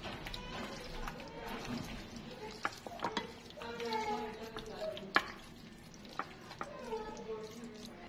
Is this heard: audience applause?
no